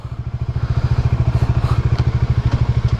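A Bajaj Dominar motorcycle engine idles close by with a loud, steady, rapid pulsing thump, a few faint clicks over it.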